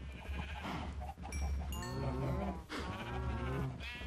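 Cows mooing in the Minecraft video game, a few overlapping drawn-out lowing calls close by over a constant low game hum, with no talking.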